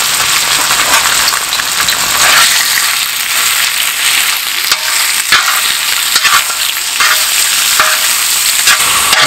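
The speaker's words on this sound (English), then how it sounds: "you can hear that sizzling" Loud, continuous sizzling of chicken frying in a hot pan, a dense crackling hiss throughout with occasional sharper pops.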